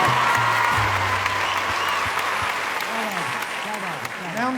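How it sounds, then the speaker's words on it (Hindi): Audience clapping with hands raised at a Hindi poetry gathering honouring the poet Neeraj, steady dense applause filling the room, with a few sung or voiced tones over it and a voice rising toward the end. "एक बार दोनों हाथ उठा के तालियां बजाइए नीरज जी।"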